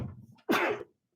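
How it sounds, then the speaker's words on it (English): A single sneeze bursts out close to the microphone, loud and brief, right after a stretch of low murmuring. "Sorry, I had to sneeze"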